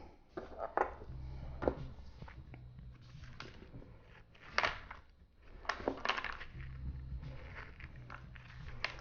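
A small homegrown pumpkin being cut in half with a knife and scooped of its seeds, heard as a series of crunchy cutting and scraping bursts over a low background hum, close up.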